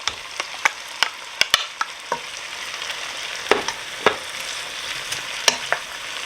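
Corn chowder being stirred in a pot, with sharp spoon clinks and scrapes at irregular intervals over a soft steady hiss, close and alone without talk.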